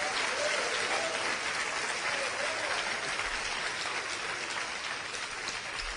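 A church congregation claps during a sermon on praise, a continuous, diffuse wash of many hands at moderate distance that stays even and unbroken throughout.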